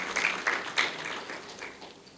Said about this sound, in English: Please give them also a round of applause.